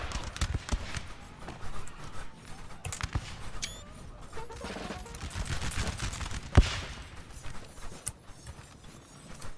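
Musket volleys crack out in a Napoleon: Total War 3 multiplayer battle, a dense fusillade of overlapping shots rolling continuously with sharper near reports standing out amid the din of a large 4v4 engagement.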